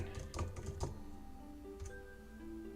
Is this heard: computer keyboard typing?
yes